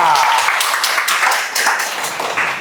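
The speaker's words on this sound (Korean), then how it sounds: "큰 박수 부탁드립니다" An audience at a lecture gives a brief, loud round of applause, a dense wash of many hands clapping at once.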